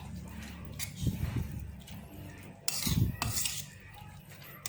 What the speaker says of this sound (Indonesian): ini kita campur semuanya sampai merata